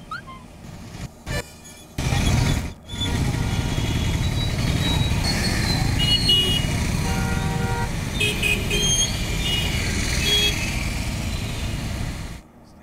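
Hundreds of vehicles stuck in a traffic jam on a flooded road from Uppal depot, with horns tooting repeatedly over a continuous roar of engines and road noise, loud and close throughout.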